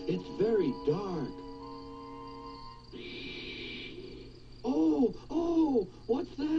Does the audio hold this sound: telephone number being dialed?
no